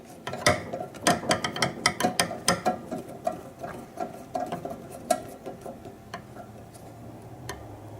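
A wrench or ratchet removes a nut from the playfield of a Stern KISS pinball machine, a rapid run of close metallic clicks and ticks that slows into sparser, irregular clicks.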